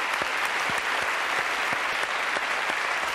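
Steady applause from a studio audience after a card trick on a French television show, a dense wash of clapping with a few sharper individual claps standing out, continuous and even.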